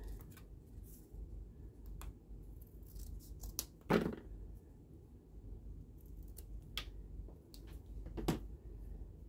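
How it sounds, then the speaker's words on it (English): Scissors cutting brick shapes out of cardboard egg cups for a Barbie-sized dollhouse diorama, with sharp snips at about 4 and 8.3 seconds over soft rustling and handling, close and moderately quiet, no talk. "use one of the bricks that I've already cut as a template. To cut bricks out."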